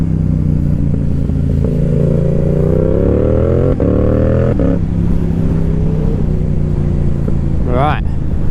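A Yamaha R7 motorcycle engine runs steadily and loud throughout, its pitch sweeping up and down as it revs while riding to a cars and coffee meet, with a brief higher whine near the end and a voice mixed in.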